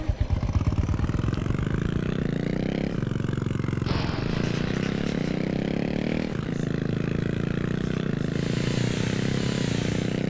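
A motorcycle revs hard and without a break during a ride in the video game Indian Theft Auto. The engine drone climbs in pitch, drops back and climbs again with each gear change, loud and with no talking over it.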